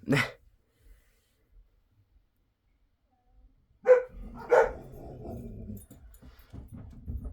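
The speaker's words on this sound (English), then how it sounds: "Oh, my dog started barking." After a long quiet stretch, a dog gives two sharp barks at a short distance, followed by low whimpering and rumbling.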